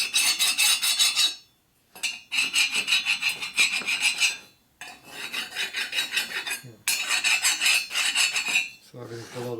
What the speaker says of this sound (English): You can hear the files hitting flat.